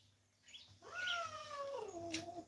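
A cat meows once in a long, drawn-out, falling cry that sits close and fairly loud over a low, steady background hum indoors.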